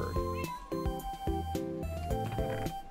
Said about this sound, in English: Oh, the cat's purring.